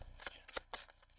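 A deck of tarot cards is shuffled up close in a few quick, riffling bursts of soft card flutter, faint and crisp.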